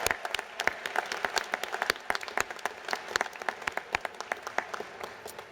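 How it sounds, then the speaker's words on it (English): Sustained applause from a large commencement crowd honoring Master in Public Administration graduates at a university ceremony, dense overlapping claps at steady volume throughout, no talk. "Can we please have a round of applause for our Master in Public Administration graduates?"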